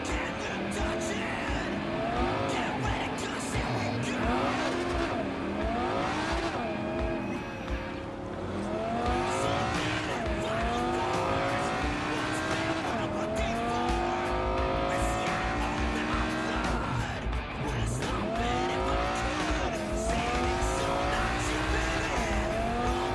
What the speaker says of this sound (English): Yeah, there is a lot of traffic right now.